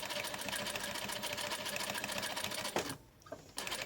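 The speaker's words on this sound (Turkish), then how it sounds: "belli bir büyüklüğe ulaştığında artık düz dikmeye başlıyorum" A sewing machine stitches a rope basket, a fast, steady mechanical whirr and rattle close up that pauses briefly near the end before starting again.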